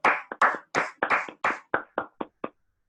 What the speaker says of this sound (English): A big round of applause to you and to all the evaluators,